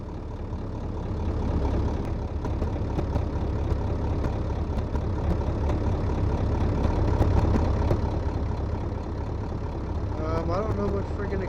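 A diesel engine idles steadily while warming up in a garage, its low rumble running continuously throughout with a faint knock, while someone speaks briefly near the end.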